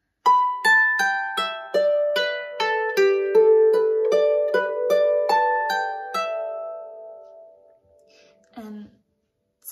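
A Manx harp plays a plucked phrase from the tune Half A Manx Second too Late, notes stepping down in a descending scale from B with ringing sustain, then fading out before a brief low sound at the end.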